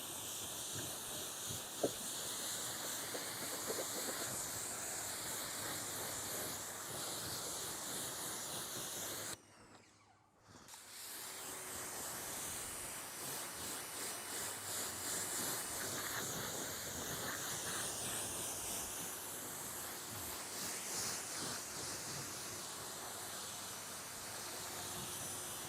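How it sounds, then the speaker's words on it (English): Steady hissing water spray rinsing a car before washing, a continuous close rush that cuts out briefly midway and then resumes. "Let's give the car a quick rinse"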